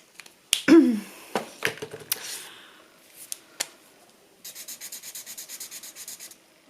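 Ohuhu alcohol markers tested on paper: squeaky strokes and cap clicks, then a quick run of rhythmic back-and-forth scribbling toward the end, close and fairly quiet, no talking.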